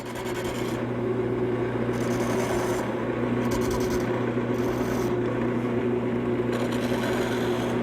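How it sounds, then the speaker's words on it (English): A small gouge cuts wood on a lathe, making a steady raspy scraping over the constant hum of the spinning lathe, with short bursts of brighter shaving as the tool bites and lifts. "Now a little detail work with my small gouge."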